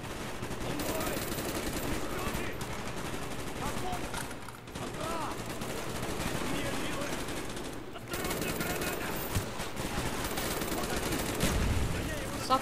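Automatic and single gunfire from the Black Ops 1 video game rattles on almost continuously at close range, dense bursts layered with game effects, with players talking over the shooting.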